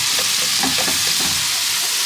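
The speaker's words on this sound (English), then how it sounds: "Right, give that a good stir." Vegetable vindaloo sizzling loudly in a pan with garlic and ginger while it is stirred, giving a dense, continuous frying hiss with soft scraping strokes underneath.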